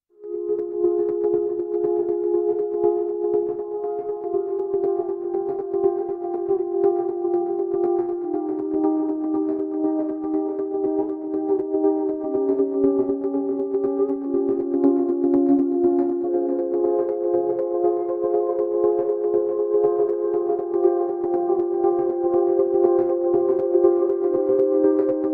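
Nostalgic Pulses synth pad patch in Logic Pro, a steady sustained chord with slowly shifting tones and gentle pulsing movement, held evenly for the whole stretch with no talking.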